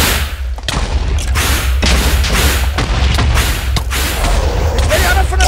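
Explosions in the Minecraft video game blast holes in the ground: a series of loud, muffled booms and crackling bursts, some close together, over a constant low rumble of game noise.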